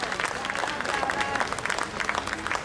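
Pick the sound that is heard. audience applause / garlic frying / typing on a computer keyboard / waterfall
audience applause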